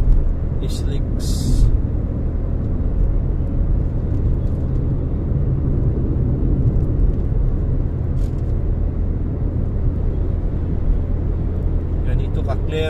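Traffic on the SLEX expressway heading toward Pasay City, a steady low rumble of passing vehicles heard from nearby, with someone talking over it throughout.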